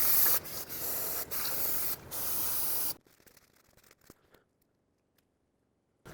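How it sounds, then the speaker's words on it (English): Brake parts cleaner sprayed onto the dusty rear brake assembly of a 2009-2013 Honda Fit in loud, close hissing bursts, three long sprays with brief gaps, then the hiss stops and only faint drips and light handling noises remain. "Now I'm just going to give this another rinse with brake parts cleaner to get rid of all this brake dust"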